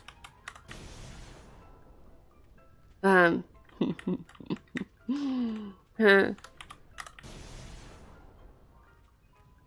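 Computer keyboard keys clattering in quick bursts while someone plays Final Fantasy X, rapid tapping under game sounds, with a person murmuring briefly.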